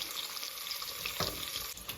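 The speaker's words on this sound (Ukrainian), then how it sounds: "Порізану цибулю відправляємо у каструлю. Смажитися." Chopped onion frying in fat in a pot gives a dense, steady sizzle with faint crackles, close and moderately loud, with no talking.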